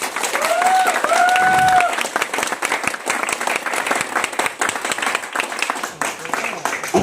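Audience applause rises and holds steadily across the whole stretch, a dense wash of many hands clapping at a live motivational talk, with a short whistle-like tone early and crowd noise mixed throughout.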